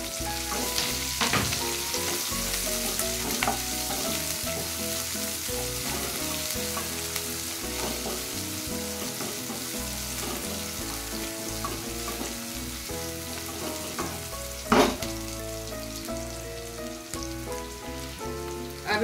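Finely chopped onions sizzle with bell pepper in a hot pan, a steady crackling fry with occasional stirring scrapes and clinks, close and continuous.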